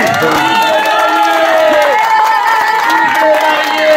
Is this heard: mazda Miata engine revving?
no